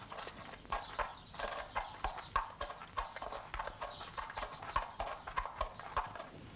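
A horse walks at a steady pace, its hooves clip-clopping in a regular rhythm at moderate volume on a western ranch, with no talk over the footfalls.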